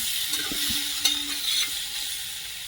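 Coriander powder being stirred into a drumstick and fish curry in a hot pan, with a steady soft sizzle and a few scraping strokes of the spoon, close and alone.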